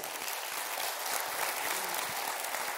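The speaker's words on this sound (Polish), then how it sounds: "duże brawa dla was" Concert audience applause: a dense, continuous wash of many hands clapping at once, heard from some distance at a steady level without pause.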